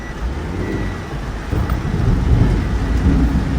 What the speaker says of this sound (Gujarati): કાટકા સાથે કાટકા જબ્બર પડે